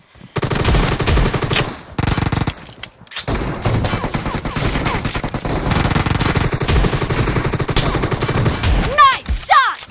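Gunfire rings out in a warehouse team deathmatch multiplayer shooter game during a shotgun challenge, with loud sustained rapid bursts and brief pauses, and voices talking over it.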